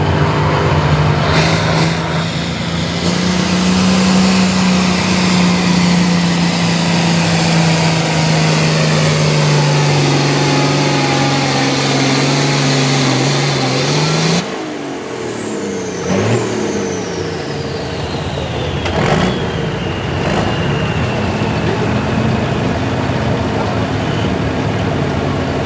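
An International tractor at a tractor pull roars loud and close, its engine revving steadily and then dropping away abruptly partway through, leaving fainter engine noise and a few sharp passing whines.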